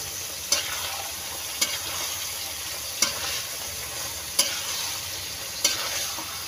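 A kilo of chicken breast frying in a hot pan, with a steady sizzle and crackle running throughout and about five sharp scrapes of stirring spaced roughly a second apart.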